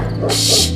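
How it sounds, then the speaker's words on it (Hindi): A cartoon sound effect of a dog barking at night: a single short, loud bark close up, with no voices. "यहाँ तो कोई नहीं है, बस कुत्ते भौंक रहे हैं।"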